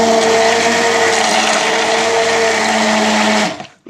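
A kitchen blender whizzes dark rose petals into small pieces for homemade soap, a loud, steady motor whine with churning that runs for about three and a half seconds, then winds down and stops.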